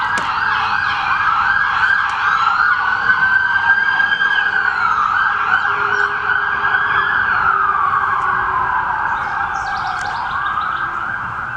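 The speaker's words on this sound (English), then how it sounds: "We got an ambulance." An ambulance siren wails loud and close, its rising and falling tone sweeping past over road noise before easing slightly.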